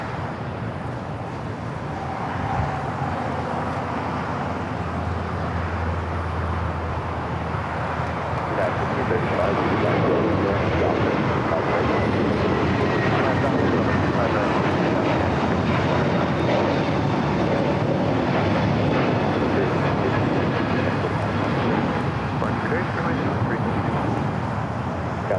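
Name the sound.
Asiana Airbus A380 taking off at LAX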